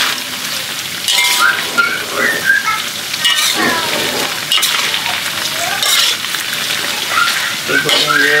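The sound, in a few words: frying beef for dendeng until crispy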